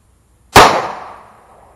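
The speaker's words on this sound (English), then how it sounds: "We're going to do the 9mm first. And I'm going to shoot it on the left side." A single 9mm full-metal-jacket pistol round fires once, a loud sharp crack close by that rings out and fades over about a second, with silence before it.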